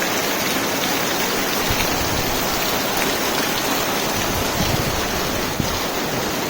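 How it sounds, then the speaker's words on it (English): Steady, dense rain falling on a rainy day, a continuous broadband hiss with soft patter that stays even and loud throughout, with no voices. "Don't we just love the old rainy days?"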